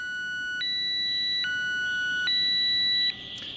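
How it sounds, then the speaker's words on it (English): SCOTT firefighter air pack goes into alarm: a loud electronic tone that alternates between high pitches in a steady repeating pattern, heard alone and close with no talk. "when that air pack goes into alarm"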